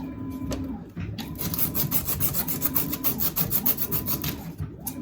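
Sandpaper strips rub back and forth over a leaking copper water heater pipe in a steady rasping rhythm, close and fairly loud, with brief pauses between strokes.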